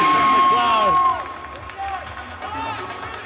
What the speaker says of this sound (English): Suleiman Al-Zaid getting the cheers from the crowd